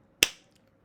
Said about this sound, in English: we're gonna do another clap, okay, to start the podcast